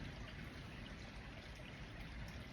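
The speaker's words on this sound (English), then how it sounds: "You can hear the water for this burn here, the stream, and the birds." Quiet, steady trickle of a small stream burn at Dunino Den, an ancient wooded site in Scotland, running as a soft continuous wash of water without any voices.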